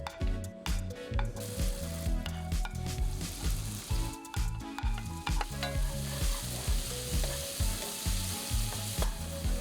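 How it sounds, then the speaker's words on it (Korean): Onion and leek sizzling and frying in butter in a pan over medium heat, with continuous crackling and the rhythmic scrape of stirring close up, no voices. "팬에 버터를 넣고 양파 대파를 넣어 중불에서 3분 정도 볶습니다"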